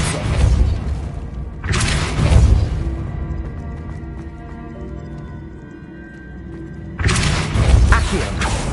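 Spells are cast in Hogwarts Legacy. There are three heavy booming blasts, each a low thumping burst with a crashing tail, separated by quieter stretches of game ambience.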